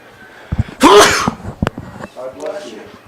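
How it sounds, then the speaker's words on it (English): A single loud sneeze up close at a baseball game, with scattered clicks and a few brief murmurs around it. "I could feel that sneeze coming."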